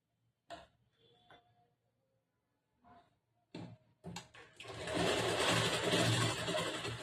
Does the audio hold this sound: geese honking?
no